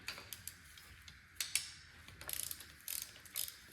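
A ratchet clicks in quick bursts while pulleys come off a 1958 Plymouth engine, with metallic clicks and light clanks in short irregular runs, close by in a quiet garage.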